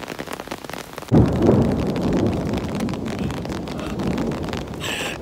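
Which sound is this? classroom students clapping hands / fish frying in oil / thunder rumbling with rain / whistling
thunder rumbling with rain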